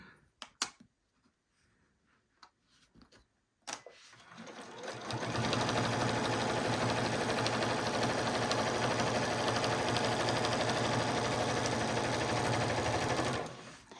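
Sewing machine stitching layers of fabric for a quilt-as-you-go dish mat, starting after a few faint clicks and handling sounds, then running steadily and loudly for about ten seconds before stopping abruptly.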